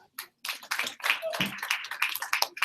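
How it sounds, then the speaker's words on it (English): Scattered, uneven clapping from a small audience at a presentation, fairly faint, with a few distinct claps and a murmur of voices mixed in. "please give yourself a round of applause"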